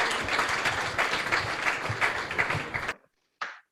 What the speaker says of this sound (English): You get that extra round of applause.